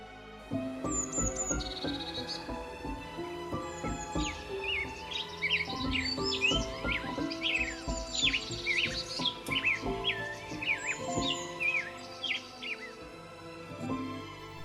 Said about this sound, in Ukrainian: А ви чули, як співають навесні пташки?